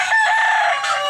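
A rooster crows once, loud and close, with a drawn-out harmonic call lasting about a second and no talk over it.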